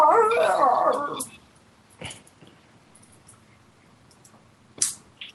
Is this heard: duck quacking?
no